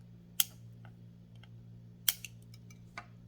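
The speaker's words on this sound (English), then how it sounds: "What I've been using is cheap fingernail clippers. They work really well, and you just snip those off." Cheap fingernail clippers snip off the soldered component leads on a dome lighting circuit board, giving three sharp, close metallic clicks spaced unevenly over a quiet background hum, with no voices.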